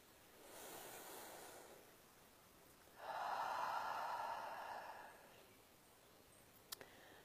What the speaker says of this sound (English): Let's take a nice deep breath together.